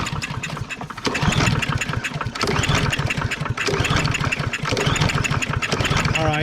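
A Troy-Bilt TB110 lawn mower with a plastic carburetor, sitting on a table for repair, is pull-started and its small engine runs with a loud, rapid, rough putter that continues throughout.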